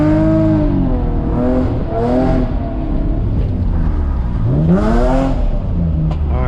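Car engine revving hard and continuously during night street drifting, the pitch rising and falling through clutch pops in first gear, loud and close with tire and exhaust noise, no talking.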